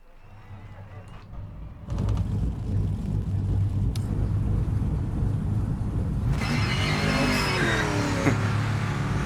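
A powerful race car engine in the driving game PMR roars steadily after a sudden start, rising and shifting pitch as it accelerates, loud and close with no talk.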